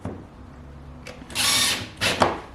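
A power drill drives washer screws through moulding on an RV overhead cabinet, giving two short high-pitched whirring bursts over a low background hum.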